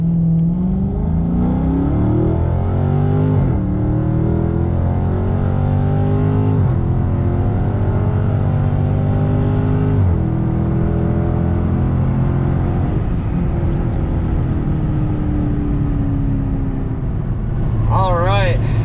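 Scat vehicle pulling away and revving hard, engine loud and near with repeated rising pitch sweeps as it climbs through gears, a brief voice near the end.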